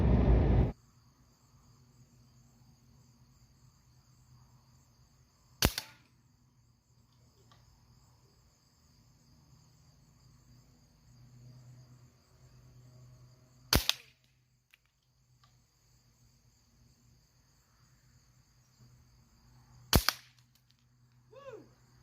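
Three sharp cracks from a PCP airgun fired offhand at business cards set on edge about 30 yards away, spaced several seconds apart, over a steady outdoor chorus of crickets and insects.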